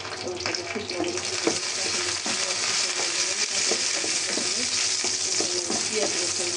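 Green and dried chillies sizzle and crackle steadily in hot oil, a dense continuous frying hiss with occasional stirring scrapes, close and fairly loud, with no talk.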